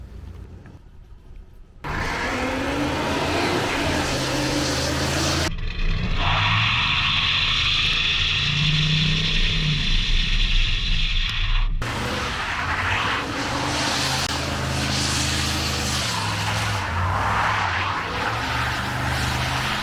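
A patina-covered 1971 Chevy El Camino A-body streetcar runs hard through a burnout, its engine roaring loud and close in long sustained bursts, with a sharp break as the revs drop and climb again.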